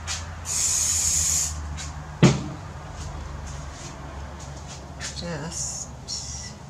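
A short hiss from a spray onto a poured paint ring artwork comes first, then a clunk. After that comes quiet rustling and a few softer bursts, fairly close and moderately loud.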